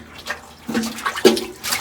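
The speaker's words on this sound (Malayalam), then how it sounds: "ഇന്ന് വെള്ളം വരലുണ്ട്" Water from a village spring splashes and gurgles in short, uneven bursts, close and moderately loud over a brief stretch.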